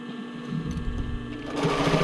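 A sewing machine back-stitches a sports bra waistband at a 3/8-inch seam with a shortened stitch length, its steady motor whir and rapid needle clatter running close and continuous for the whole stretch, growing slightly louder toward the end.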